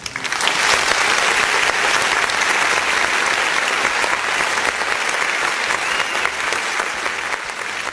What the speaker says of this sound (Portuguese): Uma salva de palmas, Danilo.